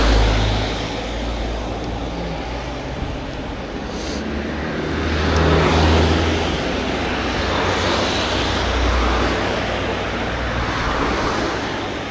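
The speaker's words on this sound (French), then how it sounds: "Vous voyez qu'il y a beaucoup de circulation." Heavy road traffic on the mountain climb to Les 2 Alpes: a continuous loud roar of passing vehicles and engines, swelling and easing as cars go by, with no speech.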